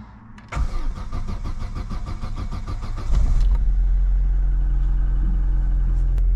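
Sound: car engine starting at the ignition

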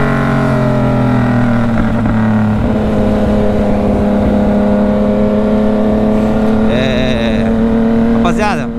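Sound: Yamaha MT-09 motorcycle engine

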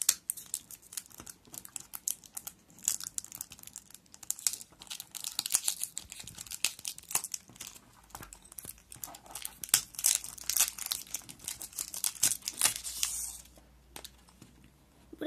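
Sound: opening a surprise toy box, packaging crinkling

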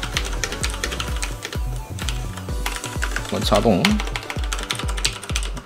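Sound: typing on Filco Majestouch 2 tenkeyless mechanical keyboard, brown switches

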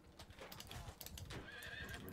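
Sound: horse neighing and hooves in video game

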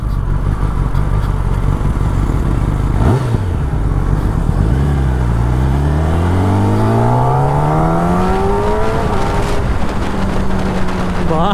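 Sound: sport motorcycle revving throttle during city ride

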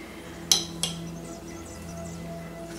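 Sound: spoon stirring pepper in a bowl

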